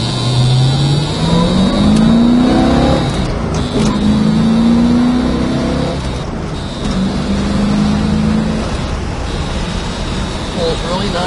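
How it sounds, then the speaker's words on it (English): A 1973 Ford Mustang's engine rises in pitch through successive gear shifts, loud and close from inside the car, each pull climbing then dropping as the next gear engages, with steady road roar underneath. "Pulls really nice up through the gears."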